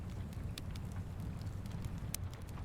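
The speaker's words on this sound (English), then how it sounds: "and the sound of a crackling fire" Low rumbling fire with scattered sharp crackles and pops, quiet and continuous with no voices.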